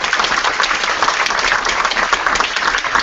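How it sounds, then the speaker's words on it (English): A small meetup audience applauds after a Drupal talk, a steady patter of clapping hands at fairly close range that holds evenly throughout with no speech. "let's give Moshe a round of applause"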